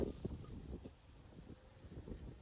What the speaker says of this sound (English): It is so windy out, y'all.